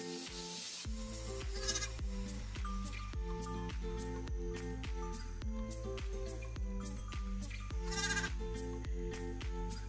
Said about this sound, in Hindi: और ये यहाँ पे हमारी बकरियाँ हैं, इतनी सारी बकरियाँ, ये देखिए।